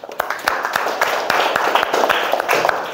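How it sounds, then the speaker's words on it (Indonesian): Children clap for one another after a ScratchJr coding class, a dense patter of many small hands at close range, steady for a few seconds with no voices over it. "Yuk, tepuk tangan buat kalian semua."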